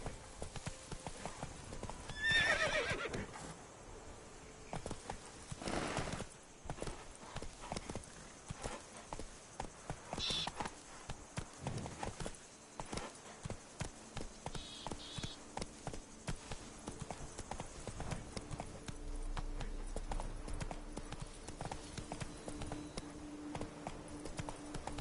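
Roach, the horse in The Witcher 3, gallops with a continuous, driving clip-clop of hooves and a brief whinny, heard up close over faint game ambience.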